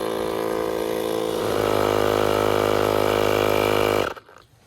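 An enduro motorcycle runs steadily along a single-track trail with 1 bar of rear tire pressure, its engine droning loud and close for about four seconds before cutting off sharply into near quiet.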